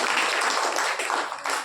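Applause during a church service: a short burst of clapping from a congregation that fades slightly toward the end.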